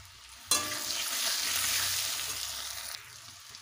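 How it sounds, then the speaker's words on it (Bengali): Cut potatoes dropped into hot oil with a pinch of salt, bursting into a loud, close sizzle that holds steady for a couple of seconds before easing off. "দিয়ে দেব কেটে রাখা আলুগুলোকে ভালোভাবে ভেজে নেব"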